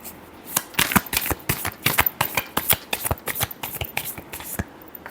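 Tarot cards are shuffled by hand in a rapid run of crisp riffling slaps, close and fairly loud, lasting about five seconds.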